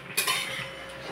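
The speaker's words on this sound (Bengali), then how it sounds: "দেখুন এই মাছের ঝোলটা বসিয়ে দিয়েছিলাম, সিদ্ধ হয়ে গেছে কি আলুতে দেখছি।" A spoon knocks against a cooking pot of fish curry with potatoes, making one quick metallic clink followed by a soft scraping stir. The sound is brief and close.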